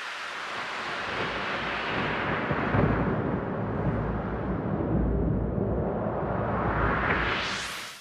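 A roaring, rumbling recording of Storm Eunice, processed with EQ only, that swells and dips, with a low boom near the middle and a bright whooshing rise at the end; no voices.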